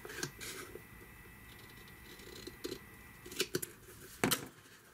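Scissors trim sheet material in a straight line for an upcycled watering can body, a few quiet snips and crisp cuts spaced apart, with a closer, sharper pair of cuts near the end.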